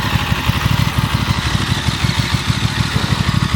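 A motorcycle engine idles before a ride during its break-in period, a close, steady rapid putter with even rhythmic pulses and no talking.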